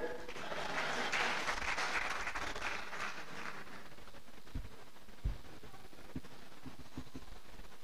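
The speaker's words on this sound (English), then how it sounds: "Clap for them." Audience applause at a public lecture on decolonizing African education: a steady, moderately faint wash of clapping that swells then fades, with a few louder thumps near the end.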